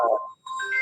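A short electronic telephone ringtone, two brief melodic tone bursts separated by a tiny gap, heard clearly and alone.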